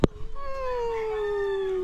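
A dog lets out a long, drawn-out howl that slowly falls in pitch, close by, preceded by a brief thump.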